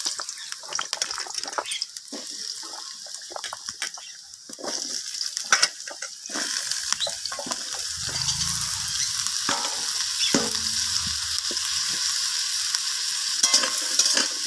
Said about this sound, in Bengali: আমি এইভাবে তেলের সাথে সবজিগুলোকে একটু নাড়াচাড়া করে ভেজে নিচ্ছি